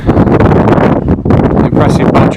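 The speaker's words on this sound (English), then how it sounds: "It's coming towards me, the wind is." Strong, continuous wind buffeting close to the microphone at Bolsover Castle, Derbyshire, a broad roaring rush with a brief lull near the middle.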